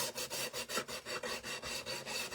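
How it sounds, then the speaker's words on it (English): Wood being sanded by hand for a rough finish, about a dozen even back-and-forth rasping strokes in a steady quick rhythm, close and continuous with no voices. "we're really going to start sanding it"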